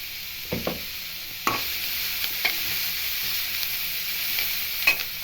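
Onions frying in a pan with a little salt, a continuous sizzle broken by several distinct spoon scrapes and knocks as they are stirred, close and alone.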